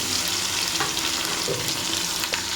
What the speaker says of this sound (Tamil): கடுவு ஃபுல்லாக பொரியட்டும் அதுக்கப்புறம் ஜீரகம் அதுக்கப்புறம் இடித்த பூண்டு